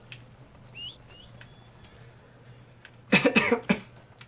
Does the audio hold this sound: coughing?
yes